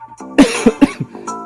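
A single person coughs several times in a quick, harsh burst, loud and close, with a throat-clearing quality and no talk around it.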